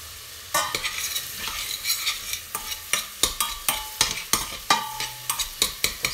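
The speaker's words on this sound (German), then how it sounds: "Jetzt die geschnibbelten Schaloppen dazugeben." Chopped shallots fry in a pan for an Indian-style Madras curry: a steady close sizzle broken by a quick series of sharp scraping clacks as they are stirred, with no talking.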